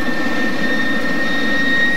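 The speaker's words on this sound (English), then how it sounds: "After the engine is spooled up, the ground attendant removes the APU cable," A Fouga 170 jet engine, spooled up and running on the ground, gives a continuous loud roar with a steady high whine, unbroken for the whole stretch.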